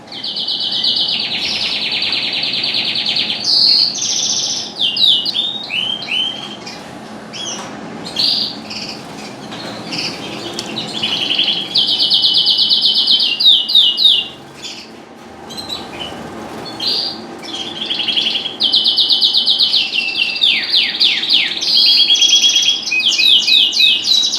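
Many small birds chirp and twitter continuously in an indoor bird room at moulting time, with bursts of high, rapid trills rising and falling over a steady indoor hum.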